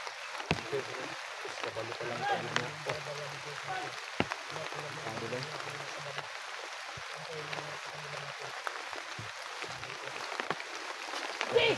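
Steady rain falling outdoors, a continuous hiss with scattered sharp drips, and brief low voices or rumbles now and then under the patter.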